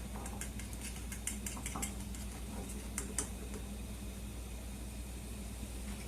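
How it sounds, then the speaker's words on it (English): A utensil breaks up and mixes eggs in a pan for scrambled eggs for a breakfast taco, giving faint, irregular ticks and light clicks against the pan over a low steady background hum. "I'm going to go ahead and break it up because I want scrambled eggs"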